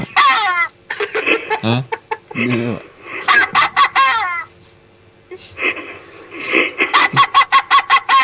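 Chickens clucking and squawking loudly close by in repeated bursts, mixed with human laughter and chatter between the calls.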